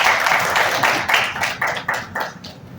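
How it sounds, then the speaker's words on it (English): Audience applause in a university hall at a faculty personal and emotional development session, a run of regular claps that thins out toward the end, fairly close and loud with no talk over it. "I think at this point it deserves a big applause."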